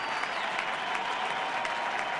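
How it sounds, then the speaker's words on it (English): A huge baseball crowd at Busch Stadium gives a standing ovation for pitcher Chris Carpenter in Game 7, steady dense applause and cheering at a distance, even and unbroken throughout. "a huge crowd at Busch Stadium responding to Chris Carpenter with a standing ovation"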